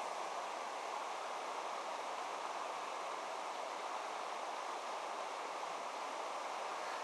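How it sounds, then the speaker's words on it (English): A creek flows beside a campsite, giving a soft, constant rushing wash that stays faint and even throughout, with no talking. "you hear this nice, gentle sound of the creek gurgling by."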